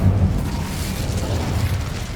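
An Incendio fire spell bursts in a video game as a loud, sustained roaring blast with heavy low rumble that fills the whole span without letting up, and no voices are heard.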